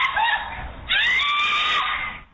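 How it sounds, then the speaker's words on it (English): A mother's piercing scream caught on surveillance footage at a gas station after a road-rage shooting: two sustained, shrill, loud cries in quick succession, the second longer and harsher. "A mother's piercing scream caught on surveillance video obtained by ABC station KTRK."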